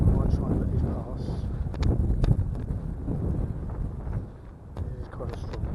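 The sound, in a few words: strong gust of wind outdoors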